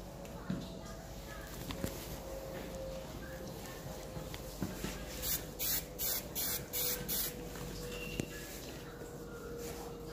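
Grooming spray misted onto a show poodle's coat, a run of short hissing bursts in quick succession midway through, faint and close under a soft background murmur of voices and room noise.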